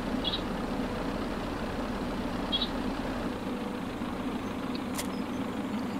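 A tractor engine idles in Farming Simulator 2013 with a faint, steady low rumble and hum, broken only by a couple of soft clicks and a brief high tick.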